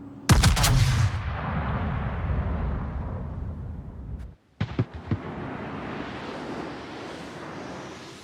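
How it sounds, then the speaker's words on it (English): In a naval video game, the warship Sun Yat-Sen fires a gun salvo: a sharp, loud burst of several blasts, then a long rumbling decay, with a second cluster of cracks about halfway through. "I ended up firing another salvo at the Colorado"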